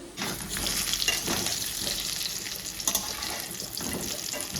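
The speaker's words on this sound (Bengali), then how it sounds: "আলুটাকে একদম লালচে লালচে করে ভেজে নিয়েছি চন্দ্রমুখী আলু" Chandramukhi potatoes being fried until reddish in a pan give a continuous close sizzle with a few clattering stirs and scrapes, fairly quiet and with no talking.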